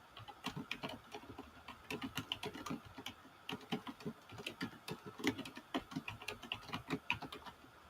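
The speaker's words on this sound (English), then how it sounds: "it helps if you're typing in the right spot" Rapid, irregular clicking of a computer keyboard during a live online auction, keys tapped in quick bursts with short pauses, close and alone with no talking.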